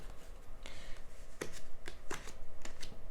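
Three tarot cards are gathered up from a reading, making a few quick, soft card slaps and swishes close by in a quiet room, with no talking.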